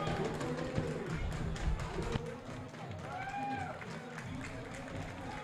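A football stadium crowd in Maranhão applauds a substituted player, a diffuse roar of clapping with whistles and scattered shouts, fairly distant and steady under faint background noise.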